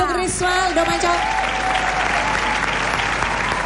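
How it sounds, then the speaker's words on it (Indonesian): A studio audience on the Indonesian dating show Take Me Out Indonesia claps for a contestant: loud, continuous applause with a brief musical sting at the start, holding steady throughout. "tepuk tangan untuk Risma."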